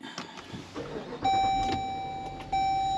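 A 2020 Jeep Grand Cherokee Overland being started by push button from inside the cabin: a steady electronic chime tone sets in and repeats over a low engine hum, close and fairly loud.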